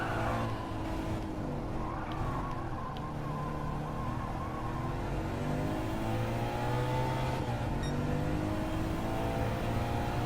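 A Subaru WRX in Gran Turismo 7 accelerates with throttle oversteer, its engine rising and falling as it revs hard, loud and continuous with no talk.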